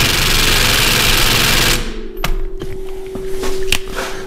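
A battery impact wrench tightens an axle nut on a Jeep Liberty KJ during a CV axle install, a loud steady hammering burst for nearly two seconds that cuts off abruptly, followed by a few short clicks and rattles.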